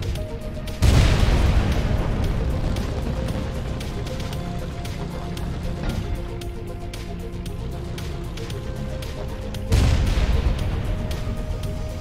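Tank in the top-down tactical game Tankocracy firing high explosive rounds: two heavy booming shots several seconds apart, each followed by a sustained rumbling roar, over a constant engine drone.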